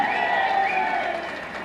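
Applause and cheering from a crowd at a Telugu Desam Party political meeting in West Godavari district, a steady dense clatter of many hands with voices mixed in, tapering off slightly.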